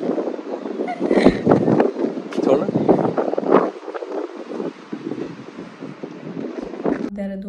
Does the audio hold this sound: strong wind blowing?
yes